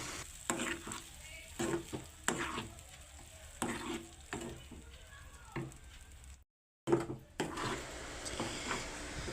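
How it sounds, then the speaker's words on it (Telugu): Tomato and mint paste frying in tempering oil, with quiet sizzling broken by repeated sharp clicks and scrapes of stirring at a slow, uneven rhythm; one brief silent gap interrupts. "పోపు వేసుకున్న దాంట్లో పేస్ట్ చేసుకున్న మిక్సీని వేస్తున్నాం."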